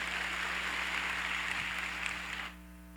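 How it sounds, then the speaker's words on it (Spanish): Applause from an audience welcoming a speaker at a theological pastoral conference for the World Day of the Sick, a steady dense patter that holds for most of the moment, then drops away abruptly near the end. "con muy fuertes aplausos"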